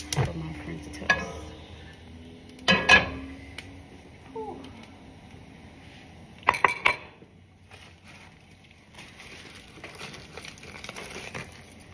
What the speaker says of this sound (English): Bring this other pan over here for my French toast.